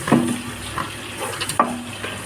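Onions sauté with beef in a pot, giving a light crackling sizzle with a couple of sharp stirring clinks and scrapes against the pot, close and fairly quiet.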